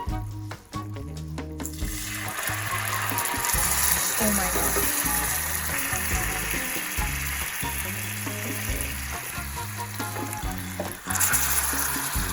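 Water is poured into hot butter caramel in a pan over a low flame and sets off a loud, crackling sizzle that runs steadily for several seconds, while a person briefly exclaims and background music plays.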